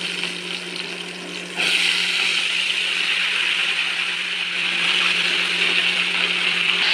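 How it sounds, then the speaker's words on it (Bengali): Jujubes sizzling in hot oil in a home kitchen for a sour-sweet pickle, a steady hissing fry that jumps louder after a moment and stays constant. "তেল গরম হয়ে গেছে, দিয়ে দিচ্ছি কুলগুলোকে।"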